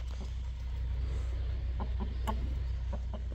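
A large Indian game hen or rooster gives a few soft, short clucks at an irregular pace over a steady low background hum, with no other animal calls.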